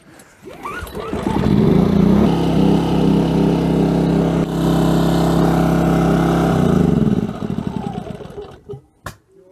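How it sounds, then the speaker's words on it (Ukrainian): A GTM petrol generator engine starting up and running under load, a loud, close, steady mechanical drone with a throbbing rumble that holds for several seconds before cutting out into a few scattered knocks. "Генератор GTM."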